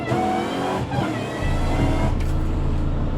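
From inside the cabin, a 740 hp supercharged Fox Body Mustang engine drones loudly and continuously, its deep rumble swelling and thickening partway through as the car pulls harder.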